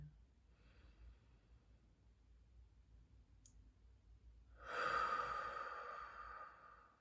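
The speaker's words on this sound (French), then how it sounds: "prendre 1, 2, 3, 4 belle inspire, belle expire" A person takes one slow, deep breath during a guided meditation. It starts as quiet, soft airflow, then builds into a louder, breathy exhale that trails off. The breath is close and heard alone, with no voice over it.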